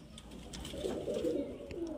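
A pigeon gives a soft, low coo once, close by and faint, at a pigeon seller's stand where a green male pigeon with yellow eyes is shown.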